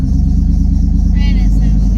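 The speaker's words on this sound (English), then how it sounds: "Squealing belt and all." An SUV with an LS engine, new cam and tune idles and revs with a heavy lumpy rumble close by, while a high squealing belt chirps in short bursts over the engine.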